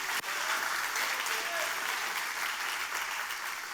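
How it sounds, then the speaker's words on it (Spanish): Applause from a church congregation during a sermon, a steady dense wash of clapping sustained for several seconds at even loudness, with no clear speech over it. "O dale un aplauso a Dios por eso."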